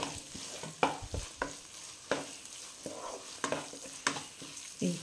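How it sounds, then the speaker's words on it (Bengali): Paneer being stirred in a frying pan: repeated scraping strokes at an irregular pace, each a short sharp scrape over a low steady sizzle, close and fairly loud with no voices. "নেড়ে দিলাম।"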